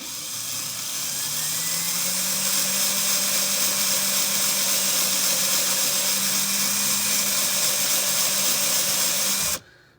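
A steady, high-pitched power drill turning a handheld case neck cutter whines continuously at close range for several seconds, then cuts off abruptly at the end.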